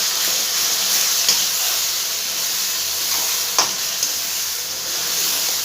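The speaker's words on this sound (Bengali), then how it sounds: "ভালো করে মশলাটা এবার একটু ভাজবো।" Spice paste for raw banana kofta curry frying in a pan, a steady loud sizzle with hiss and a few faint scrapes of stirring, no talking.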